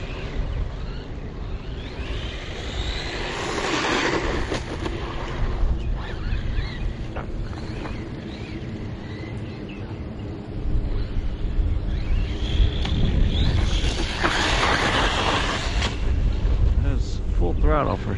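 Bezgar HP161S 3S brushless RC car driven at full throttle, a rushing whir of motor and tyres blended with heavy wind noise, surging louder toward the end with voices faintly underneath.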